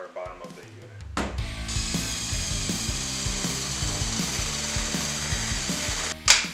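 A tool presses a gas pipe fitting onto a tankless water heater line, giving a steady mechanical ratcheting whir with repeated low pulses, close and fairly loud, ending in a sharp clack as the jaw closes.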